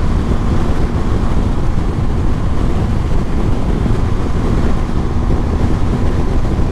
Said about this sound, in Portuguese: Barulho de vento, me perdoem, galera, que realmente está ventando muito.